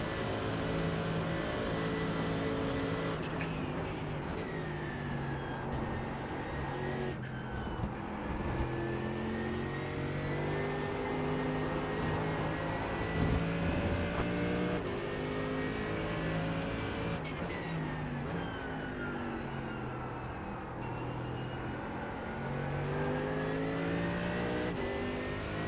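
Mercedes-AMG GT3 EVO race car lapping Spa-Francorchamps in the iRacing sim, a continuous loud engine howl that climbs in pitch, drops sharply on gear changes and surges again through the corners.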